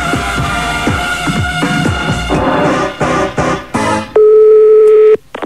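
Telephone line tones on a 1997 radio prank call, with a rapid run of dialing beeps and clicks, then a steady, loud single ringback or line tone lasting about a second, with no talk.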